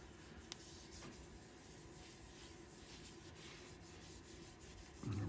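Yorkshire grit paste rubbed by hand onto a heated egg-shaped workpiece, a faint, steady scratchy friction with no voices, ending in a slightly louder scuff.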